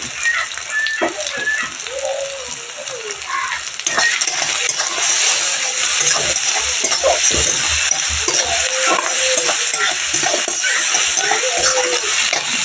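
Drumstick flowers with salt and turmeric sautéing in a pan for poriyal, giving a steady crackling sizzle throughout, with occasional faint stirring scrapes and a brief distant voice.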